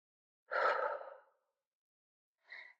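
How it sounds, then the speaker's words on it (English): Deep breathing during a foam roller upper back stretch: one long, audible exhale-like breath up close, then a short silence and a second, briefer breath. "Breathing."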